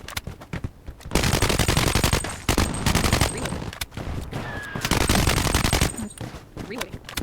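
Blood Strike assault rifle fire, able to shoot full auto or three-round bursts, crackles in several loud sustained volleys separated by short gaps, with mechanical clicks between strings of shots.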